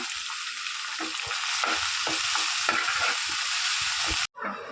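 Onions and coriander frying in a pan for potato gravy, a loud continuous sizzle close by with a string of spatula scrapes and knocks, cutting off abruptly just before the end.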